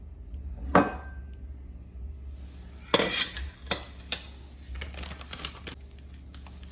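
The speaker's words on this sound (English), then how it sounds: "I'm going to mix the cinnamon butter that we're going to use." Softened butter being mixed into cinnamon butter in a bowl, with a utensil clinking and scraping in irregular bursts, some quick rapid taps, close up and without talk.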